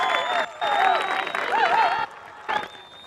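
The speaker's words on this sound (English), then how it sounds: "the crowd goes wild" Crowd at a 2019 EBUC men's ultimate frisbee semi-final, Great Britain versus Spain, cheering and applauding after a catch, a brief loud swell with excited shouting voices.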